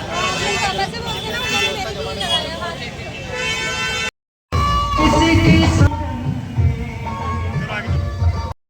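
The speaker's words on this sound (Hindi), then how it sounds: "ट्रैफिक जाम हो रहा है।" Vehicle horns toot amid crowd babble and shouting as a flag rally in pouring rain meets a traffic jam, with people talking loudly and a brief dropout midway.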